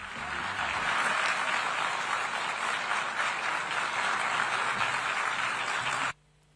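Delegates in the UN General Assembly hall react as Benjamin Netanyahu walks to the podium. Booing and applause mix into a dense, steady crowd roar that lasts about six seconds, then cuts off abruptly.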